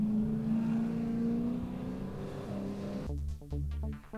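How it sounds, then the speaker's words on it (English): Group A and Group C touring cars roll onto the grid for a historic race meeting at Sandown in 2006, their engines making a steady droning hum that drops to a low, uneven rumble near the end. "the cars are rolling around onto the grid for the feature race for Group A and Group C touring cars"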